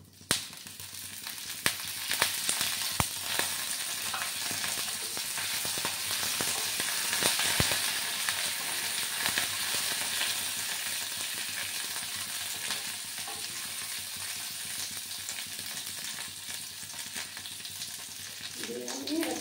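Black mustard seeds and curry leaves sizzle and crackle in hot melted ghee in a pan, a steady loud frying hiss with scattered sharp pops throughout, no voices.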